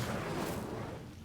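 An Incendio fire spell cast in Hogwarts Legacy gives a short, dense, roaring burst of flame that sounds close and loud, then slowly fades.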